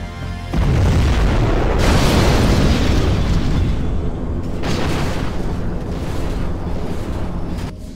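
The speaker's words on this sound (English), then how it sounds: "We have launched our nuclear missile" A nuclear missile blast in Command & Conquer Generals Zero Hour: a massive, loud, rumbling boom that erupts suddenly and rolls on, with a second surge of blast noise midway.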